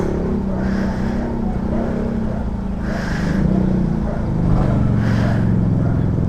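A Honda Giorno 125 scooter engine idles steadily after a one-click start, a low even hum close by with slight swells, while people talk intermittently over it.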